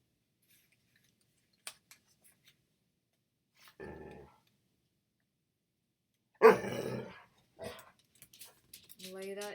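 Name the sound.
dog barking, wanting to go outside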